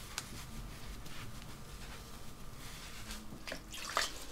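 Hands working water into wool for felting, soft close splashing and dripping with intermittent wet squelches, fairly quiet and with no speech.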